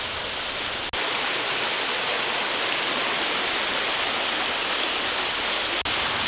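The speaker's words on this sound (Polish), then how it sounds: "No jednak tędy musiałem przejść przez tą rzekę, co widzicie za mną." A river near Pamuayan Waterfall in the Philippines flows over slippery stones in a constant loud hiss and roar of water, close by and unbroken, with no talking.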